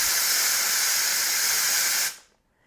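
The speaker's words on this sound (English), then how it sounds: "you can see how much steam actually comes out of there" A portable steam cleaner blasts a loud, steady hiss of steam close by, holding constant for about two seconds before cutting off sharply into near silence.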